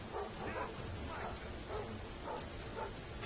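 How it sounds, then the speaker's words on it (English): Dogs barking in the stealth video game Thief, a few short yaps repeating every second or so over a steady hiss like falling rain. "the dogs. They're just random dogs in places."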